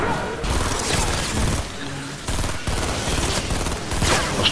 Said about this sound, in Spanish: ¿Quién está disparando?